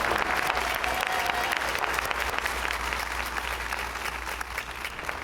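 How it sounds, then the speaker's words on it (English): An audience at an adult high school graduation ceremony claps in a sustained, dense round of applause that stays steady and fairly loud, slightly easing toward the end. "Let's give Sarah and Elements of Praise another round of applause."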